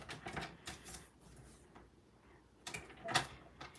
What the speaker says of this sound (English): we are gonna take our trimmer and we're gonna line it up and we're gonna cut them in 1-inch pieces